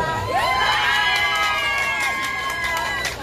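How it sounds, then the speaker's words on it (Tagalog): A crowd at a Filipino boodle fight gathering in Earl Bales Park, Canada, erupts in loud, sustained shouting and cheering, with children's high voices and whoops blending into a dense roar that holds steady throughout. "Dumadagundong na hiyawan."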